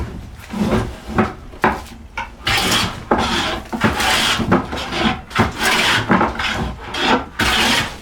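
A hand plane drawn along a wooden board takes full-length shavings, a series of rasping strokes about a second long each, close and steady, with brief pauses between passes.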